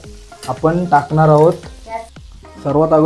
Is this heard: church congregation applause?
no